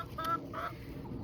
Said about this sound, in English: I've got some poorly chickens.